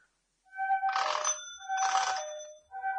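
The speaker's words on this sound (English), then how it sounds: "That's the way the doorbell sounded" An old-fashioned doorbell rings in two long metallic bursts, a steady tone between them, then starts again at the close, loud and close; a townhouse doorbell in Glasgow, Scotland.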